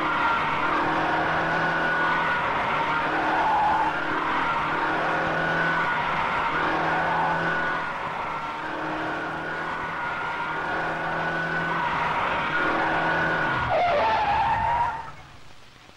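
Fiat 850 car in a steering and road-holding test, tyres squealing and skidding almost continuously with engine drone beneath, fading sharply at the end.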